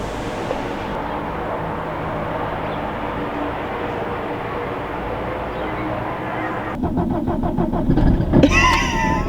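A rickety hire car's engine is started after a stretch of quiet background rumble, then catches and runs with a fast, rhythmic chugging. The engine sound is close and grows louder, and a voice comes in briefly near the end.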